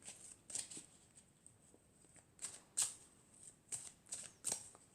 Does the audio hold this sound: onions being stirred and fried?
no